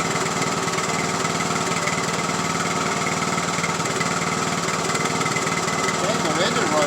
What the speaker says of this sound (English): Dang, the engine runs good.